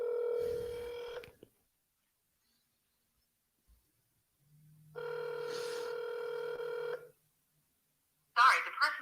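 Telephone keypad tones and ringback beeps from an outbound cold call to a property seller, two long tonal stretches separated by silence, followed by a short burst of speech.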